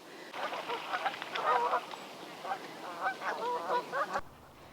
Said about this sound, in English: Some Canada geese on the bank there.